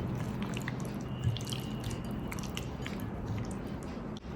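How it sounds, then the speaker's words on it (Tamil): Raw prawns being mixed by hand into a wet masala marinade for tandoori prawns, a continuous soft squishing and sticky slapping with small drips, close up and steady, with no voices. "இப்போ ப்ரானை பார்த்தீங்கன்னா நல்லா இந்த மசாலாவோடு சேர்த்து மிக்ஸ் பண்ணி விட்டுப்போம்."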